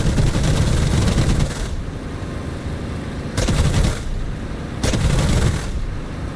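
Gunfire in the DCS flight simulator game: dense bursts of rapid cannon and machine-gun fire come in three loud waves over a steady roar, with no talk.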